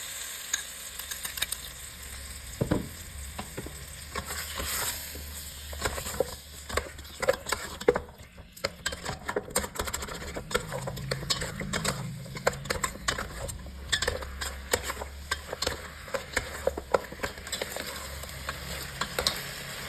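Pork ribs sizzle in a pan as seasonings go in, with intermittent clinks, scrapes and stirring taps over a soft, steady frying hiss.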